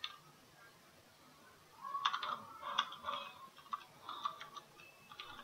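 Keys clacking on a computer keyboard while code is typed for a PhoneGap PHP CRUD tutorial, quiet for the first two seconds, then irregular bursts of close, light taps.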